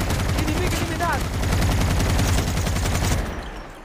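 Rapid automatic gunfire in a video game, dense and loud bursts sustained for several seconds before cutting off, with faint voices mixed beneath.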